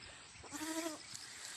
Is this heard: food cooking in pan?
no